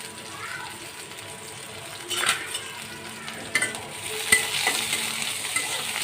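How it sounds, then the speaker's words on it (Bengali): Onions and green chillies fry in oil in a pan for a Bengali curry, giving a steady soft sizzle with a few louder stirring scrapes and clatters. "পেঁয়াজটা ভাজা হয়ে গেছে"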